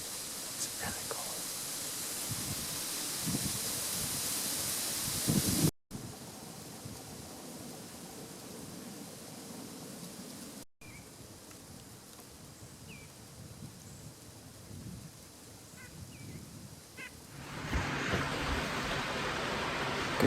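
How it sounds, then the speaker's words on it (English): Heavy rain pouring outside a tower blind during a hunt, a steady broadband hiss that holds constant and swells louder near the end, with a voice murmuring quietly under it. "as you can hear, it's pouring"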